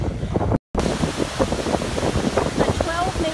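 Goðafoss waterfall in Iceland roars in a broad, continuous wash of rushing water with wind buffeting the microphone and voices talking nearby.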